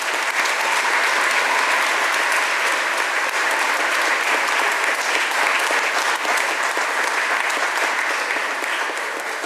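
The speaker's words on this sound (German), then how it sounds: "Mit dem Applaus wollen wir uns bei euch bedanken." A church congregation at an Epiphany high mass in Steinakirchen parish applauds the carol singers, a dense, steady wash of many hands clapping close and loud for the full stretch without pause.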